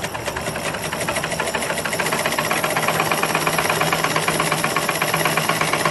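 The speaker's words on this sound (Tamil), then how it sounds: "இது மாதிரி ஆயில் விட்டதுக்கு அப்புறமா மிஷின் நீங்கள் கொஞ்சம் ஆப்ரேட் பண்ணணும்." A freshly oiled household sewing machine runs steadily for about six seconds, giving off a dense, continuous mechanical clatter with a fast regular knock, loud and close with no talking.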